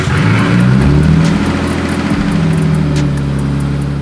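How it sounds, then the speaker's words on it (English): A car engine runs for the first time with its water pump working and a clutch fan attached, making a loud, close, steady droning hum that swells slightly early on and then holds even. "this is the first time the car's running with the water pump working, and connected to the water pump is a clutch fan"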